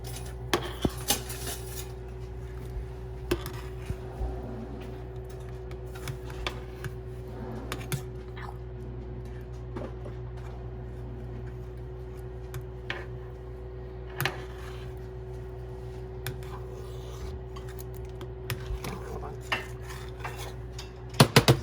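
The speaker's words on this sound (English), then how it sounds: "we want to scrape out that pan with a rubber scraper" Rubber scraper scraping out a very hot pan while cooking cheeseburger soup, repeated light scraping and clinking strokes over a steady kitchen hum.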